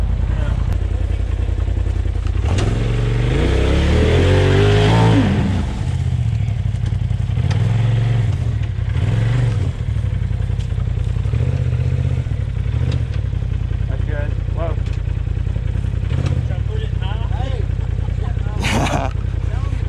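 An off-road vehicle's engine revs and labours while climbing a rocky hill, loud and close, surging in bursts with clattering over rocks, and people talk over it.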